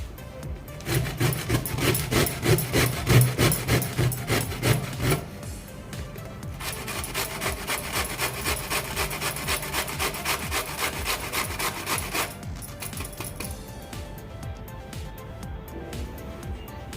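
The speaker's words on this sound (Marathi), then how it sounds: "आता आपण पहिल्यांदा फ्लावर किसून घेऊयात" Cauliflower is grated by hand for cauliflower and pea kofta, making rapid, rhythmic rasping strokes close by that run steadily through the whole stretch, heavier at first and then lighter.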